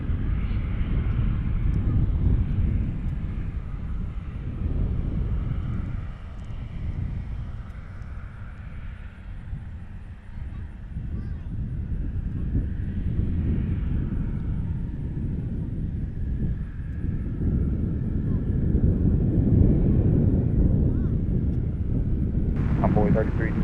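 A FedEx heavy cargo jet lands at Cincinnati airport, its engines making a steady low roar and rumble that holds throughout, with wind noise over it.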